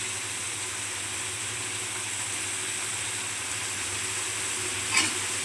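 Onions, capsicum and green chilli sautéing in a pan for chilli idli, a steady loud sizzle and hiss throughout with a single brief clink of stirring near the end.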